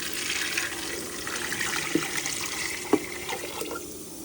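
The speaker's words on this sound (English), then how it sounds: "All right, now we need to add water." Water is poured into a high-pressure canner before canning jars of chicken, a steady splashing flow with a few brief knocks and clinks, fairly close and alone without talk.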